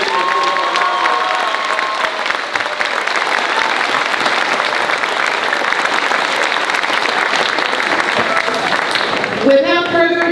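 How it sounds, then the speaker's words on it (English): An audience at a school cultural arts night concert claps loudly and steadily, a thick sustained roar of many hands with some cheering and children's voices mixed in, continuing throughout before fading at the end. "please join me in a round of applause."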